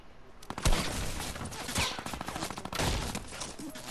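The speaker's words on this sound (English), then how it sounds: "Do you know how it feels to get shot with a minigun?" Rapid minigun fire in a video game, a loud sustained burst of dense rattling shots lasting several seconds with brief dips and no talking over it.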